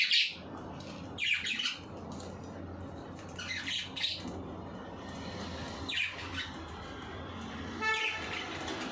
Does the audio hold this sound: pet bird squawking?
yes